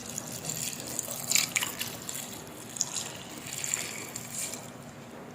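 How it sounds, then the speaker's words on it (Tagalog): Water poured into a cooking pot of fish paksiw made with galunggong, a soft, faint, continuous splashing trickle with no talk over it. "Lagyan na po na rin natin ng tubig."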